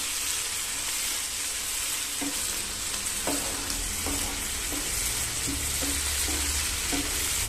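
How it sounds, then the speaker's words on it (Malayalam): Green chillies, onion and tomato sautéing in coconut oil for a Kerala prawn roast, a steady close sizzle with soft spoon scrapes and stirring clicks repeating through the pan. "ഇനി ഇതും നന്നായിട്ടൊന്ന് വഴറ്റിയെടുക്കണം"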